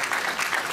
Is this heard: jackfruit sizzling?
no